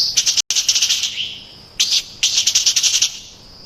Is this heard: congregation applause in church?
no